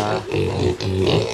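Pigs of a German Pietrain-type breed grunting on a farm, a loud, continuous run of low rough grunts and snorts, close by, with a brief dip partway through.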